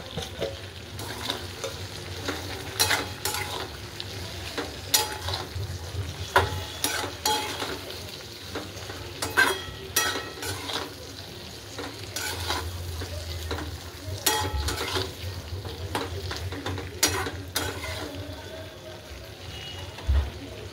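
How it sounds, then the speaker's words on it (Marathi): Stuffed capsicums with ground peanut powder are stirred in a frying pan, giving a continuous soft sizzle broken by repeated scraping and clinking of the spoon against the pan, close up, with no talking. "हलवून घेऊया मस्तपैकी।"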